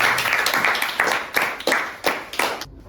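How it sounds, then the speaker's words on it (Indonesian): A classroom group claps hands after a science demonstration, a fairly close, loose patter of several people clapping in uneven bursts before stopping abruptly. "Tepuk tangan dulu teman-teman."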